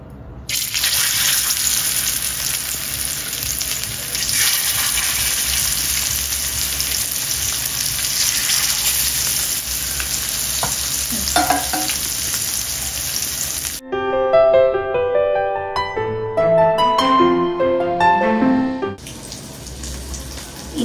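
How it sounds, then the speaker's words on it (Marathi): Surmai fish, salted and slid into hot oil, fries with a steady loud hiss and crackle for about fourteen seconds, followed by a short burst of plucked musical notes. "इथे फिश फ्राय होत आहे"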